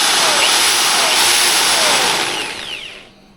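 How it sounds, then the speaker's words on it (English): A brand-new power drill fitted with a hole saw whirs loudly at a high, steady pitch, then winds down and stops near the end. "this is a brand new drill I just bought yesterday"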